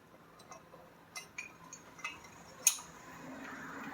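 A metal socket and a bent extension being handled near a K24A2 engine, a few faint light clinks and ticks with one sharper metallic tap, quiet and close.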